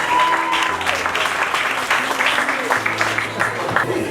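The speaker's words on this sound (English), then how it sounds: "Let's clap it up for the best man" Wedding guests at a Haitian wedding reception applaud the best man, steady clapping from a crowd layered with music and voices throughout.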